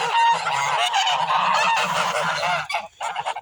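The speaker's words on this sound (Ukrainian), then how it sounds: "І виходять такі рябі, здорові, сірорябі гуси." A flock of large mottled grey geese, a two-breed cross of White Mammoth and Grey Tula, honk loudly and continuously in overlapping calls close by, with a brief lull near the end.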